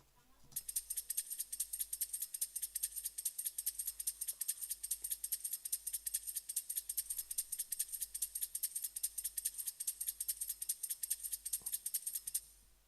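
A chopped drum break with subtle reverb, heard as a bright, crisp rhythmic pattern of steady hat-like hits repeating for about twelve seconds with no talk.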